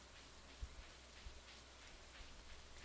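Light, even rainfall in Stardew Valley hisses steadily across the whole stretch, with a few faint low thumps underneath.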